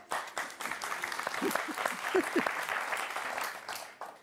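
Applause from a small audience, moderately loud with uneven, bursty claps and brief voices mixed in.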